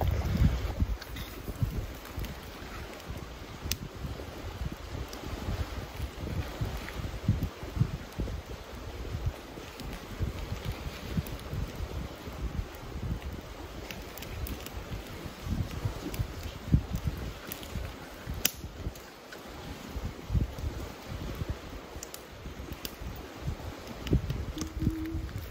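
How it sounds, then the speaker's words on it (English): Wind at a backcountry campsite in Algonquin Park blows steadily against the microphone, a low, rough rumbling gust noise with faint rustling and occasional knocks, fairly quiet throughout. "Wind's calming down a bit, which is helping."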